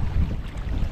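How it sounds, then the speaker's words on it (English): Wind buffets a Hobie PA14 pedal kayak out on open water, a steady low rumbling gust noise close to the microphone. "I'm going right into the wind."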